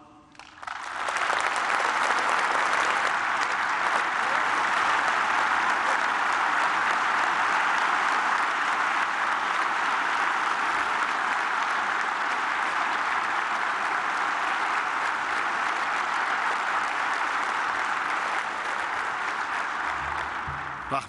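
Sustained, loud applause from a large audience in a parliament hall, a dense even wash of clapping that swells in and continues steadily for about twenty seconds.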